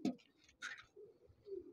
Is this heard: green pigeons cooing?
yes